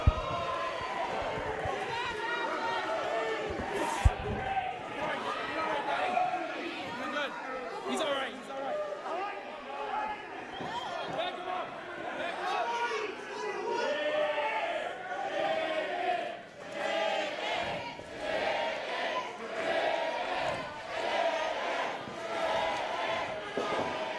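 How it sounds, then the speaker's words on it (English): A crowd at a UPW wrestling show fills the arena with chatter and shouts, and a wrestler's voice carries over the steady roar throughout. "The crowd here tonight is electric, ladies and gentlemen."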